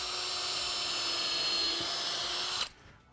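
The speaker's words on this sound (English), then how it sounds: "drill some holes in between here to stop the wood" A high-pitched drill whines steadily at close range boring holes in timber for a few seconds, then cuts off abruptly into near silence.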